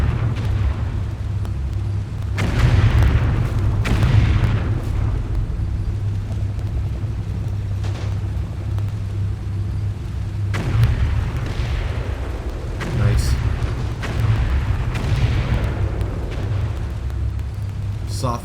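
A Combat Mission Red Thunder artillery barrage: a steady low rumble of shelling with repeated distant booms and muffled blasts rolling on continuously throughout.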